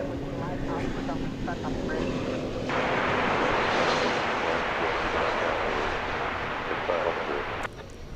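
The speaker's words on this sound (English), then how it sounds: "This Airbus A321neo coming in from Phoenix, Arizona, flight 1139" An Airbus A321neo arriving from Phoenix lands at DFW Airport, its broad jet roar swelling louder partway through and holding steady before dropping off near the end, with people talking over it.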